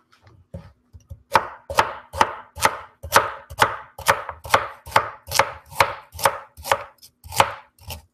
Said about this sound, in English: You hear the quick knife chopping skills?